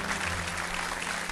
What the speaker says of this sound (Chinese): 我们再次把掌声送给徐辉